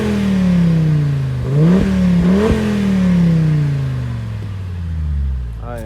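An Audi TT RS 8J with a six-speed manual revs from behind the car, a deep close engine note that climbs through two sharp blips and then winds down slowly.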